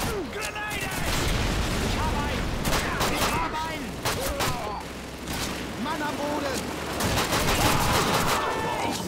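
Pistol shots from a Luger in the World War II shooter game Call of Duty 2, sharp reports repeating amid dense battlefield gunfire and explosions, with voices talking over the din.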